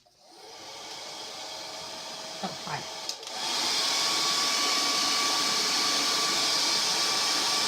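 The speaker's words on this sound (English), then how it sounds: "I'm going to turn on my hair dryer to dry this out." A hair dryer switches on and blows with a loud, steady whooshing roar after a brief spoken greeting.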